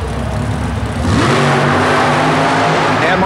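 A nitrous-injected big-block Chevrolet coupe engine roars at a 1991 super modified mud race, loud and steady, surging harder about a second in with rising harmonic whine.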